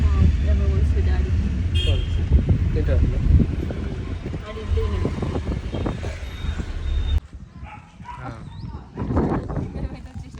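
A car pulls off and its engine rumble fades as it moves away, with people talking over it and a brief beeping partway through.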